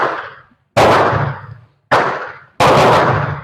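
Four loud, close rifle shots from a K31 Swiss rifle firing SST bullets, each a sharp crack with a long echoing tail, spaced unevenly about a second apart outdoors.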